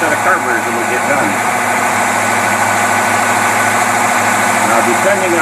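A Buick engine running on dual WCD carburetors, a steady, loud, continuous idle that holds without change, with someone talking over it.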